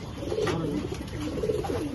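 A baby pigeon coos softly and repeatedly at close range, a low burbling call with slight rises, alone without any talking.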